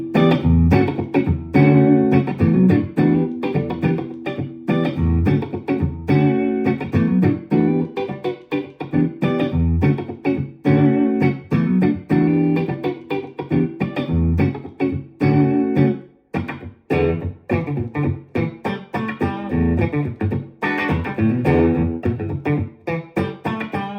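Electric guitar played as a rhythm part through a Fender FRFR 1x10 amp with reverb, giving choppy strummed chords with short rhythmic stops and sustained passages, alone and fairly loud.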